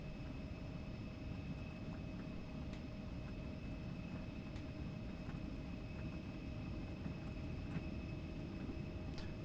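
An airliner accelerating for takeoff on runway 19 right in the X-Plane 12 flight simulator, a steady low engine roar with a constant tonal whine, even and unbroken throughout.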